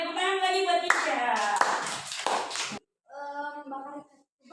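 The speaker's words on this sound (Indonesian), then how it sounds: "tepuk tangan lagi buat Tisha." Children's clapping in a classroom, a burst of hand claps over a few seconds with a voice speaking over the start, then fading out as a single voice continues talking.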